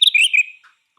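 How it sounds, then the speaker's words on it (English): A bird sings a close, bright burst of rapid high chirps for about half a second, followed by a faint note and then silence. "It's birds. Okay. Bird song."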